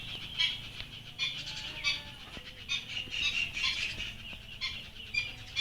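Small birds call and chirp outdoors beside a house, where a nest-building bird sits on a lamp wire; the calls come as steady, moderately close twittering over faint background noise, with no talk.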